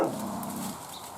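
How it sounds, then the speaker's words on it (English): A dog barks on a creek-bottom homestead with a bear nearby, a close, steady burst of agitated barking lasting about a second. "Looks like he's barking."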